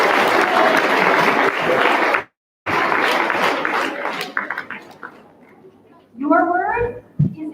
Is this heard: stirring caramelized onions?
no